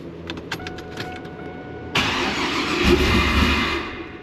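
A WS6 Trans Am comes to life after a few faint clicks and a brief whir, the starter cranking into a sudden loud, rough engine start that settles into a close, steady running roar.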